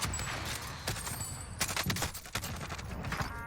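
Rapid bursts of Krig and C58 rifle fire in a Warzone Plunder match, loud, dense volleys with sharp cracks repeating across the whole stretch, no voices.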